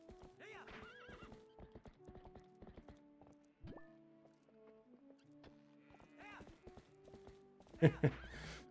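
A horse in Zelda: Twilight Princess clops its hooves in scattered steps and gives a loud whinny near the end, set against soft in-game music tones.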